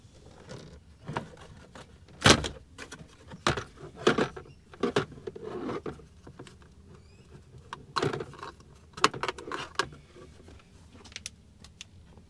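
Lower trim panel beneath the steering wheel of a Honda Civic being pried loose, with several sharp plastic snaps and clicks scattered across the clip amid quiet handling rustle.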